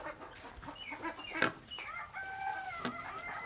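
Chickens cluck and a rooster crows on a farm, several clear calls close by over a quiet background with no talking.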